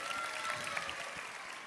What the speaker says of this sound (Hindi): आप लोग अगर ज़्यादा तालियां बजाएंगे तो कुछ और चीज़ें भी दे सकता हूं मैं।